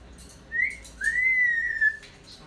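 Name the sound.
yellow-naped Amazon parrot whistling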